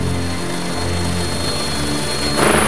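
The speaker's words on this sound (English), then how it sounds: "With the chopper gone, they're on their own." A helicopter's loud, steady engine and rotor roar fills a remote wild hunting ground, swelling slightly at the end as it departs.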